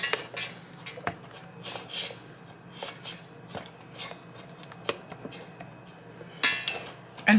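Spoon or whisk scraping and clinking in a bowl while strawberry ice cream mixture is stirred with red food coloring, a steady series of soft knocks and scrapes with a few sharper taps, fairly quiet and close.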